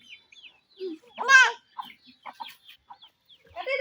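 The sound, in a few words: chicken clucking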